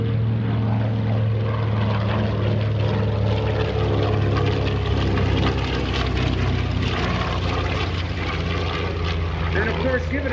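A WWII propeller warplane's engine roars loudly and steadily as it flies past at an airshow, a deep throbbing drone with rich low rumbling tones.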